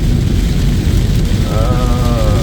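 Heavy rain pouring down during a downpour on a flooded, traffic-jammed road in east Jakarta, a loud, dense and unbroken hiss that stays steady throughout with no voices.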